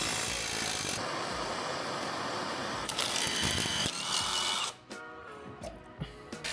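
A ratchet wrench working on car suspension bolts during a suspension refresh, a steady dense mechanical clicking and whirring, close and loud, shifting to sparser clicks and knocks toward the end.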